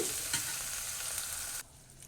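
Onion, tomato, ginger and garlic being stirred and fried in a pan, a loud close sizzle with scraping stirs that cuts off sharply near the end, leaving a quiet tail.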